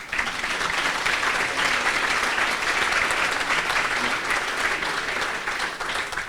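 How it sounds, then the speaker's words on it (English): Dense, steady audience applause at a Chautauqua Farmer-Neighbor Dinner held at the Grandview, loud and sustained for about six seconds with no break or voice. "Round of applause."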